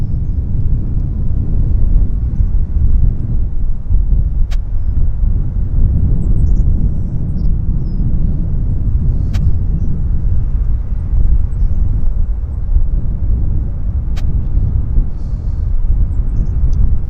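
A jet aircraft lands on runway 26 right at Vancouver Airport, a long, steady, low rumbling roar heard from a distance without voices, broken by a few faint clicks.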